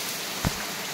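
Heavy rain pours outdoors below a waterfall as a continuous broadband wash, with one short dull thump partway through and no talking.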